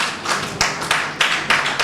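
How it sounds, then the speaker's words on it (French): Brief applause from a small audience at a French-speaking women's network meeting, with a few distinct clap bursts standing out over a light patter of hands. "on peut l'applaudir"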